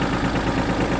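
ISEKI SIAL19 mini tractor with power steering and reverse runs close by, its small engine idling in a steady, even, rumbling chug.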